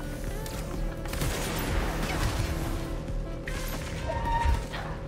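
Continuous gunfire from the video game Control, a dense, loud barrage of shots and crashes with a steady game soundtrack underneath, swelling around the middle and near the end.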